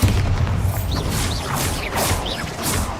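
The Bombarda spell goes off in Hogwarts Legacy with a run of booming magical blasts and crashing impacts, several bursts spread across a few seconds alongside whooshing spell effects.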